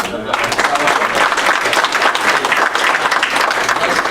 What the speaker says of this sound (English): And give my Lenny a round of applause.